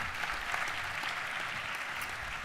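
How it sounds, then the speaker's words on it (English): A roomful of attendees at a fire and EMS annual awards ceremony applaud together, producing a thick, continuous roar of clapping that holds steady without pause. "Big round of applause again for everybody."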